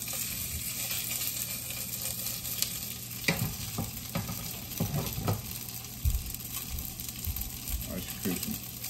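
Food frying in a pan on the stove, a steady close sizzle with occasional pops and stirring scrapes, and a voice talking over it at times.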